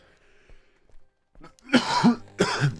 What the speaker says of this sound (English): Without the coughing and the spluttering